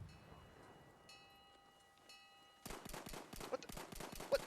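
Rapid gunfire from Battlefield 1, played in Rush mode on the Sinai Desert map, erupts after a quiet stretch of low tones as dense, loud bursts of shots fire in quick succession.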